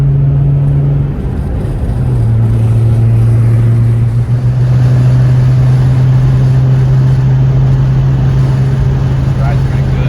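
A supercharged VR6 engine in a Mk3 Jetta drones loudly and steadily from inside the car, its pitch shifting down and settling into a sustained tone, while occupants talk over it.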